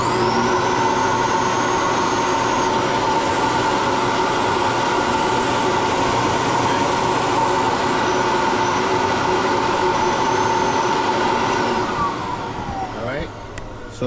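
A carpet extractor machine, battery-powered in a test setup, runs with a steady loud droning hum and whine for the whole stretch before winding down near the end.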